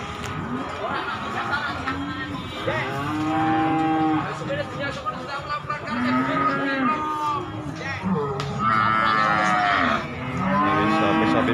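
Limousin and PO cattle at the Muntilan cattle market moo repeatedly, several loud, drawn-out calls from nearby animals overlapping one another, with people talking and general market chatter underneath.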